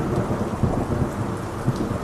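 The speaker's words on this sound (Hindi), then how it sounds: "और थोड़ी ही देर में मूसलाधार बारिश शुरू हो गई।" Torrential rain pours steadily during a storm while low thunder rumbles roll through underneath, a dense, continuous wash of sound with no voices.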